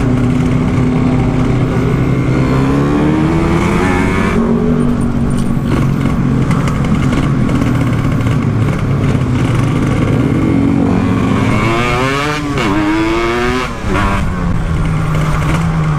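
A Yamaha RX King motorcycle running a Kawasaki Ninja 150 engine drones loudly and steadily up close, with the pitch rising and falling through several rev swells and a brief revving burst near the end.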